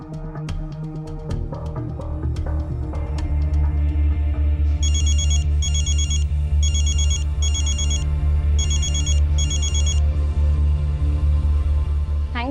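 A mobile phone ringtone plays loudly and steadily as a melodic tone pattern with repeated bright chiming bursts, alone with no talking.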